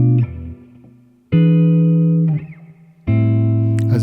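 Jazz guitar plays a minor ii-V-i with a dominant seventh on the V chord, three ringing strummed chords spaced about 1.5 seconds apart, close and loud, with no voices.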